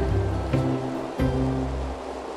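Water splashing in a shallow river as a mink plays, close watery sloshing over a running-stream background with a couple of sharper splashes.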